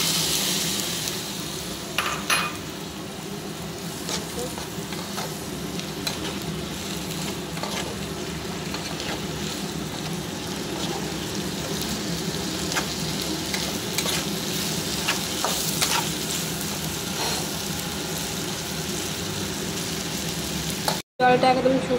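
Chickpea curry sizzles in a hot pan with a little water added, a steady frying hiss broken by repeated scraping stirs, and a brief gap near the end.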